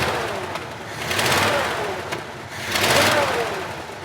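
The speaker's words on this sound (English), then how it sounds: "it's got a giant hole in it. So it makes it sound like a bit of a John Deere tractor" A project car engine idles and revs with a raspy, tractor-like exhaust note from a holed header, swelling in two loud pulses and easing back between them, with no voices.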